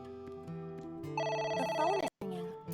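A telephone rings in the video game AI: The Somnium Files: a clear electronic ring, loud and close, with a brief gap near the end.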